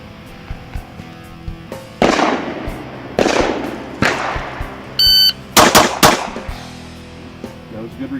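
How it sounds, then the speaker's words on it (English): Pistol shots from HK and Glock handguns fired on a range in strings of double taps followed by a precision headshot: loud, sharp cracks in quick pairs and clusters, with a brief electronic beep and faint voices between. "we're going to do some strings of double taps followed by a precision headshot"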